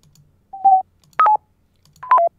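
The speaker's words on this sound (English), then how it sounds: "just goofing around with some user interface sounds" Three short electronic beeps, each a quick pair or trio of bright tones, separated by silence, like crisp user interface blips.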